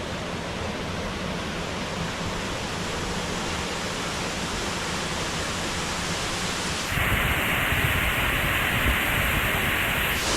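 Rushing waterfall in Goa's Western Ghats, a steady broadband roar of falling water that grows louder and brighter partway through, close and continuous with no voices.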